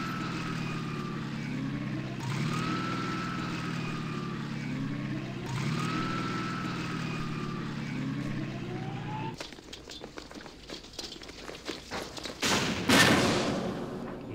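Gunfire in the war game Campaign Series Middle East, a sharp crackling burst of shots near the end, after a long droning engine rumble from half-tracks with rising and falling whines.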